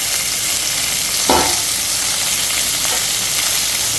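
Amaranth stem greens and onion sautéing in a pan, a loud, dense, steady sizzle filling the whole stretch, with one brief stirring scrape partway through and no talking.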